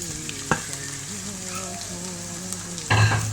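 Chicken filling sizzles steadily in a hot pan with spices, a constant bright frying hiss joined by a couple of louder scraping stirs of a spoon against the pan, close up, with a faint background hum.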